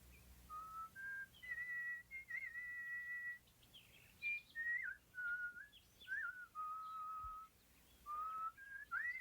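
A person whistles a meandering, birdlike melody in bursts of sustained and sliding notes, fairly close and clear, with no talking.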